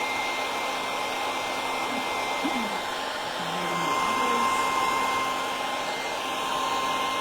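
A hair dryer drying paint on small Christmas craft tags, a constant close whirring blow lasting throughout, slightly louder midway.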